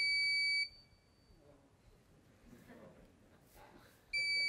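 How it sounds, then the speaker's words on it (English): Electronic buzzer tied to a front-door motion sensor, sounding a steady high-pitched tone that cuts off, then returns after a few seconds of quieter background. "I'm actually going to unplug this buzzer because that's going to be annoying very quickly"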